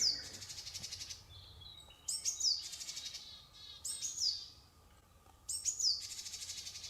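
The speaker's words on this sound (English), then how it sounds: "he soon notices that the pitsby and GGGG calls are often used together, and it sounds something like this" A Japanese tit gives its pitsby calls together with buzzy GGGG calls: about four repeated phrases of sharp high notes, each followed by a rapid, rasping buzz, clear and fairly close in a quiet outdoor setting.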